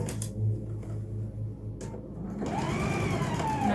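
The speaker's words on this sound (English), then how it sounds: "sew straight across till you get to your next pin, turn, and then sew straight across. Finish top stitching it." Sewing machine top stitching across a fabric face mask, running in steady bursts with a short pause and then a continuous, close, even whir.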